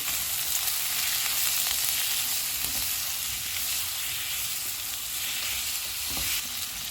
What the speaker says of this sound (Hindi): एक मिनट के बाद टमाटो पेस्ट डालेंगे, काली मिर्च का पाउडर और लाल मिर्च का पाउडर, नमक, इनको 1 मिनट तक भूनेंगे।